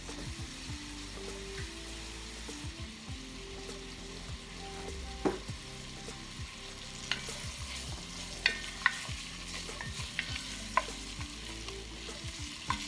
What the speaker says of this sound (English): Now we're gonna sear them for about maybe 10 minutes.